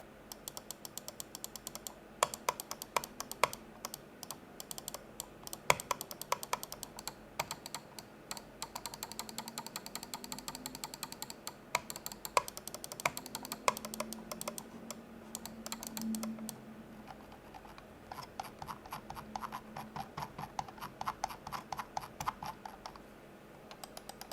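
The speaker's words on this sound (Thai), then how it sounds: "เดี๋ยวเราจะพาไปฟังเส ียงของเมาส์กันก่อนนะผม ว่าการกดปุ่มต่างๆเนี่ยให้เสียงออกมาเป็ นยังไงนะครับ" Button clicks from a Cougar Minos XT gaming mouse: many crisp, close clicks, some in rapid bursts and some spaced apart, running continuously with no voices.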